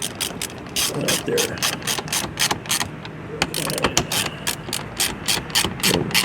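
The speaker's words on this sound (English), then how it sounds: "Then you take your 10mm socket and just start tightening it up" Ratchet with a 10mm socket tightening screws into metal J-clips on a 2024-2025 BMW X5M Competition, giving rapid bursts of close, crisp clicking in repeated strokes, with a brief spoken remark.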